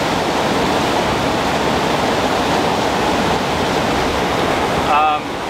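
A creek in Yosemite National Park rushes steadily in a dense, unbroken roar, close and loud, holding even for several seconds before easing slightly at the very end.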